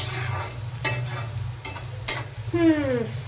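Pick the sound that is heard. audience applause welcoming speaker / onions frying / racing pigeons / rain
onions frying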